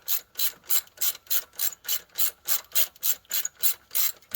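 A hand ratchet tightens bolts during a car alternator replacement, giving about a dozen close, evenly spaced clicking strokes in a steady rhythm with no talk.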